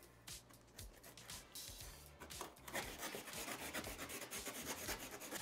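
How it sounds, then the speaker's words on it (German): A blade slicing and tearing through pizza oven cardboard packaging, a run of rough scraping and rubbing strokes, close and fairly quiet, with no talk. "Ich glaube, ich schneide es einfach hier auf."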